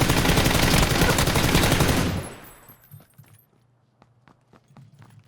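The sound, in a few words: gunfire from the video game PUBG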